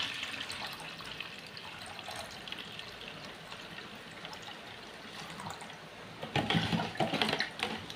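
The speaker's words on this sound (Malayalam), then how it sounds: "ഇനി ഇതിലേക്ക് നമുക്ക് ഒരു ലിറ്റർ പച്ചവെള്ളം ഒഴിക്കും" Plain water, about a liter, being poured into a liquid farm mixture, a steady watery pour and trickle throughout that swells louder and splashier near the end, with no talk.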